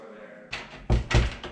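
A door in an old train depot: faint rattling and creaking, then two heavy, close thuds in quick succession as it swings and bangs without latching.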